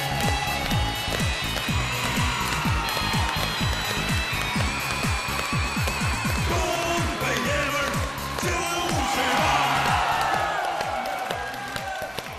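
A studio audience at a televised dating show claps and cheers to welcome a young contestant, dense applause filling the room over background music for the whole stretch.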